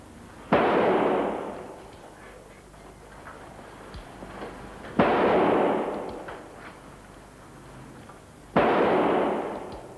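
Three loud, sharp gunshots from target shooting, each a sudden crack followed by a long booming decay, spaced roughly four seconds apart with quiet room tone between them.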